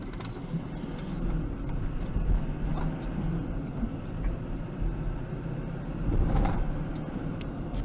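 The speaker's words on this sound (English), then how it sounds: "What you have is a truck overtaking us, passing us." A tow truck that tours city streets overtakes and passes, a steady broad traffic rumble swelling briefly toward the end, heard from inside a moving vehicle.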